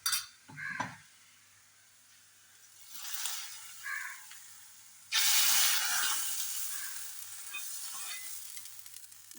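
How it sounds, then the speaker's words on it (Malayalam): Fried onion and chili tempering poured into a bitter gourd curry gives a sudden loud hiss and sizzle that swells, then settles into a steady crackle. Brief stirring and clatter come first, with no talk. "ഇത് നമുക്ക് കറിയിലേക്ക് ഒഴിച്ചു കൊടുക്കാം"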